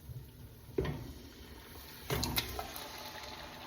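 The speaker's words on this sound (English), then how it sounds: "So it's like the whole peeled tomatoes. San Marzano, going right in." Canned whole peeled San Marzano tomatoes are poured into a cooking pot, landing in two wet splashy plops with soft sloshing after each, fairly close and quiet overall.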